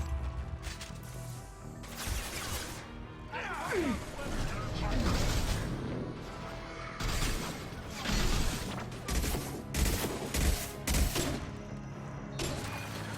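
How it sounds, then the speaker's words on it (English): Bursts of gunfire and crashing impacts in a Mass Effect 2 firefight, repeated volleys and loud hits coming in clusters over a busy combat background, with a voice speaking briefly amid the noise. "Taking heavy fire!"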